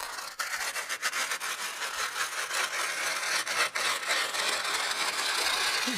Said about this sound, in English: It's a very sort of scraping kind of sound.